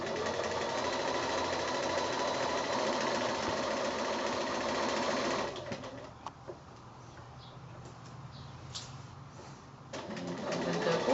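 A sewing machine quilting just beside the seam line on a quilt's sashing: fast, steady mechanical stitching runs for about five seconds, drops to quiet handling noise, then starts up again briefly at the end.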